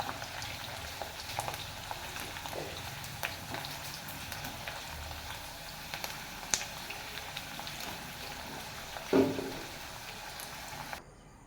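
Potato chips fry in oil over a low flame, a quiet, steady bubbling hiss with scattered small crackles and one louder clatter near the end.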